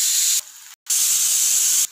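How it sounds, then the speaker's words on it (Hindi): A pressure cooker whistle hisses loudly with steam while cooking baingan bharta, cutting off briefly, then blasting again in a second sustained hiss. "प्रेशर कुकर की 2 सीटी हो गई है"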